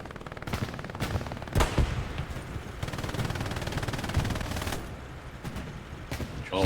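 Machine gun fire in the World War II shooter Hell Let Loose on Omaha Beach, loud rapid bursts from a mounted MG rattling in several long strings with short pauses, heard close and without talk.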